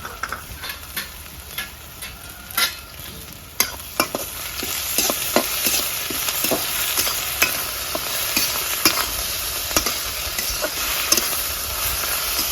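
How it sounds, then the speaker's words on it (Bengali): Chopped ginger, garlic and green chili hit already-fried onions in a pan, giving a steady close sizzle broken by repeated scraping clicks of a spatula stirring, with no voices. "পুরো পেঁয়াজটা আমার ভাজা হয়ে গেছে, এবার দিয়ে দেবো আদা রসুন কাঁচা লঙ্কা কুটনো করা"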